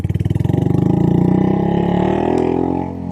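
A Royal Enfield Classic Hybrid Meteor motorcycle engine revs up from a pulsing idle into a smooth, loud, sustained rise close by, with no talking over it.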